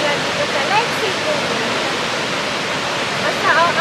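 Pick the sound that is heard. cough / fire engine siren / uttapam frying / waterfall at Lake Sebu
waterfall at Lake Sebu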